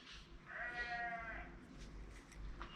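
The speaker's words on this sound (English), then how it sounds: "Sorry for the sheep in the background." A single sheep bleats once in the background, a clear quavering call at moderate distance in a quiet blacksmithing workshop, with faint low noise and no talking.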